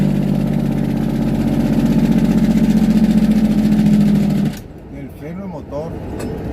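Truck engine brake with a damaged muffler roaring on the descent of La Rumorosa, a loud pulsing rumble that cuts off abruptly, leaving quieter engine and road sound.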